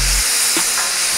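Beef and vegetables sizzle steadily on a hot Blackstone griddle, a loud continuous frying hiss with a brief scrape of a spatula sliding food across the flat-top.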